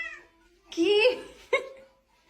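A small kitten gives one drawn-out meow and then a second, shorter one, both close and fairly loud. A faint voice sounds at the start.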